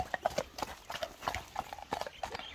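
Horse hooves galloping on the ground, quick repeated thudding clip-clop beats in an uneven running rhythm, fairly close, with faint voices in the background.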